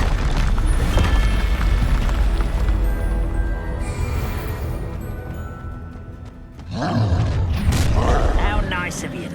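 In the video game Hogwarts Legacy, the Confringo spell sets off heavy, booming blasts amid a dense, continuous battle din, with a voice speaking over the noise and a brief dip before another loud surge.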